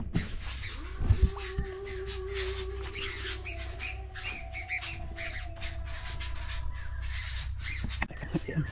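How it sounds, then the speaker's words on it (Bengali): Crows cawing and other birds squawking in repeated harsh calls, fairly close, over a low steady rumble, in a quiet, isolated island setting. "আর পাখির আওয়াজটা শুনুন"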